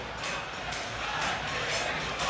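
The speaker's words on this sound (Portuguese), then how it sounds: "Deu para você ouvir o frisson da torcida colorada discordando da marcação da falta" Football crowd of Internacional supporters in a Brazilian stadium murmuring and jeering in disagreement at a foul call, a steady distant roar with a few swelling waves over the short span.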